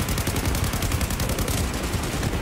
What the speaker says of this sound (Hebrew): רימונים נזרקים מחלונות, מטענים נזרקים מחלונות, ירי, פיצוצים, כאוס